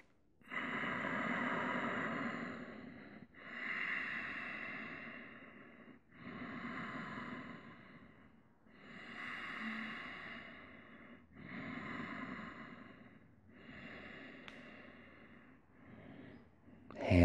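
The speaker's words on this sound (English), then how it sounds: "A few breaths in your yogic squat. Just breathe." Slow, deep breaths taken while holding a yogic squat, about six or seven long inhale-exhale cycles, close and soft, each breath separated by a short pause.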